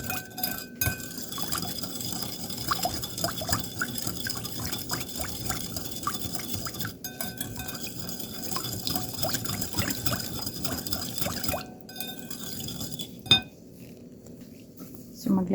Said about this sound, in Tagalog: So, tinutunaw ko lang yung ating sugar